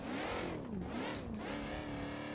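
A car engine revs while the vehicle climbs a trail, its pitch swooping up and down through strained rises and dips, close and loud and steady with no talking.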